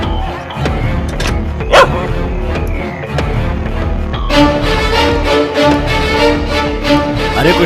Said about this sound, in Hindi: बगल वाला कुत्ता भौंक रहा है।